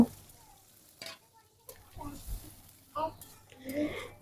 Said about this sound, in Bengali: এখন ভালো করে মশলার সাথে আরও এক মিনিট মতো নাড়াচাড়া করে নেবো